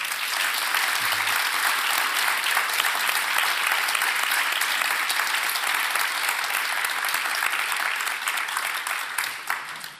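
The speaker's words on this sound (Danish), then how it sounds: "med et ordentlig klapp" Sustained applause from a church congregation during a sermon gathering, a thick even wash of many hands clapping that holds steady for about ten seconds before easing slightly at the end.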